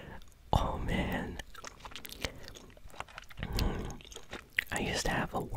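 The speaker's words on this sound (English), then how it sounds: "And I'm chewing 2 delicious pieces of strawberry bubblegum." Two pieces of strawberry bubblegum chewed close to the microphone, soft wet smacking and crunching bursts that come and go over several seconds, with a quiet whispering voice between them.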